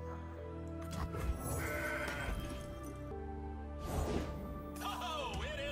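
A goat card played in Legends of Runeterra triggers a bleating, whinny-like animal cry layered over swelling game music and crashing effects, with a second bleat and shimmering chime later.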